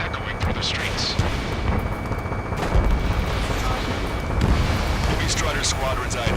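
Gunfire and explosions rumble through a city under martial law in the Ace Combat 7 air-combat game, with a dense, continuous roar of booms and rattling shots and a voice speaking over it.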